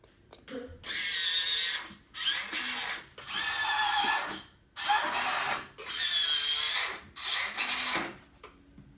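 A FoldIt automatic laundry folding device works through a sweater with a series of about six whirring motor bursts, each lasting roughly a second, separated by short pauses, close and fairly loud.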